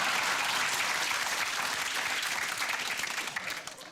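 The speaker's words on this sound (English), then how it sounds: "Why are you clapping that?" Studio audience applause on a British TV chat show, loud and dense, sustained throughout before tapering slightly at the end, no voices over it.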